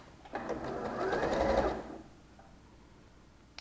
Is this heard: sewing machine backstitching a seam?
yes